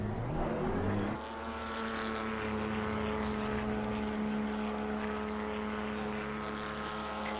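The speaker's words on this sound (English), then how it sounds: "As I hear engine noises" Simulated race car engines roar in the iRacing sim racing game during a race with pit stops, a loud, steady, droning whine that holds throughout with only a slight drop after the first second.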